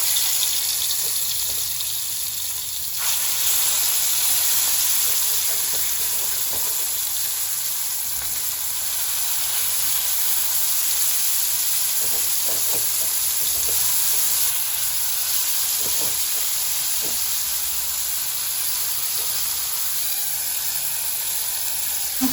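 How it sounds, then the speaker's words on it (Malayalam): Steady crackling sizzle of prawns frying in hot oil over a low flame, continuous and fairly loud from start to finish, with a few sharper pops and no talking. "ഇവിടെ നമ്മുടെ ചെമ്മീൻ ഫ്രൈ ചെയ്യുന്ന നേരമുണ്ട്"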